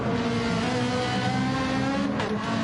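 Toyota Supra race cars accelerate at the Laguna Seca circuit, a loud continuous engine roar with a steady droning pitch heard from trackside, briefly swelling as a car pushes past near the end.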